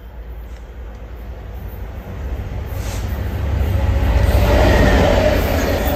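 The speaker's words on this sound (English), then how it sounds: "The train now approaching platform 1 does not stop here." A train passes through a station at Grantham without stopping, its rumble and rising rush building over a few seconds to a loud, close peak and holding there.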